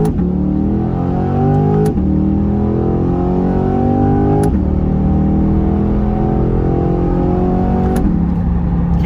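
A car pulls away and accelerates hard, its engine note climbing through several gear changes, loud and close, with no talking.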